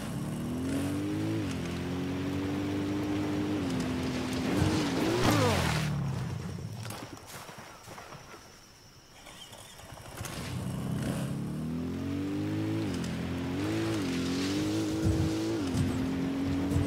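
A motorcycle engine in the video game Ghost Recon Wildlands revs and climbs through gears, drops away briefly to a quieter lull, then revs up again, steady and fairly loud with no talk.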